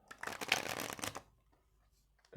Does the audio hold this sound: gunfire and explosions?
no